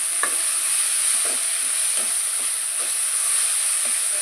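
Tomatoes sautéing with softened onions in a pan for a village-style mutton gravy: a steady close sizzle and hiss with repeated soft stirring scrapes spaced about every half second, no voices.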